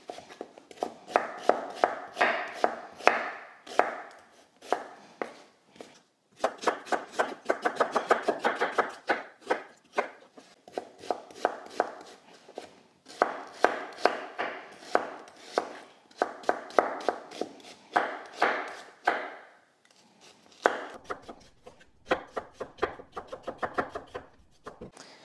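Knife chopping onions lengthwise from root to flowering end on a cutting board, delivered in rapid bursts of crisp, evenly spaced cuts with short pauses between batches, close and fairly loud with no talking.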